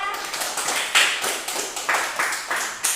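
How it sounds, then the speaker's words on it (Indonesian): Applause for a student group in a classroom, a small gathering giving brisk sharp claps with a few louder accented bursts, close and fairly dry. "tepuk tangan sekali lagi untuk kelompok 2"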